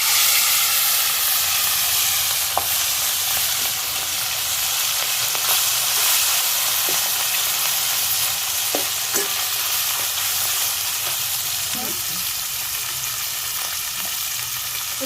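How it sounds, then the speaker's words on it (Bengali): Small fish fry in hot oil with a loud, steady sizzle that holds throughout, broken by occasional light clicks and pops from stirring. "আমি এই ছোট মাছগুলো এখন ভেজে নেব।"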